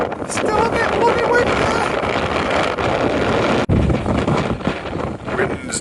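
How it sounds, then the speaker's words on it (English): Strong wind roars across the microphone on a blustery moorland walk near a reservoir between Todmorden and Blackstone Edge, a loud continuous buffeting that dips briefly for a moment before surging again. "Wind's died down a bit."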